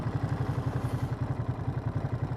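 A 2025 Ducati Monster Plus in neutral idles with a steady, lumpy thumping pulse and faint mechanical clatter, close and alone.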